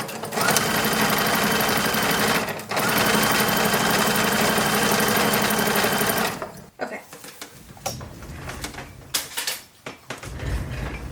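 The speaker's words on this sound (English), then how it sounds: "I'm sewing the buckram in, that way it at least stays together." Sewing machine stitching buckram into the brim of a 1910s–1920s style boy toddler's summer hat, a steady loud mechanical whir running for about six seconds with a brief pause, then scattered clicks and fabric handling.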